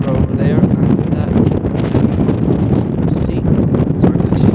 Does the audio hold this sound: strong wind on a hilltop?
yes